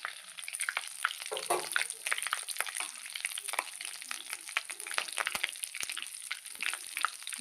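Potatoes frying in hot oil give a close, steady crackling sizzle with dense little pops throughout, and no talk.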